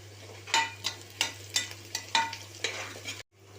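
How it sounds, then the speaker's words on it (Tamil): Onions and green chillies sautéed for Dindigul mutton biryani, stirred in a rhythmic series of about eight scraping strokes over a soft sizzle and a low steady hum, close by, ending in a brief drop to silence, with no speech. "நல்லா வதக்கி விட்டுக்கோங்க, கலர் சேஞ்ச் ஆகிற அளவுக்கு"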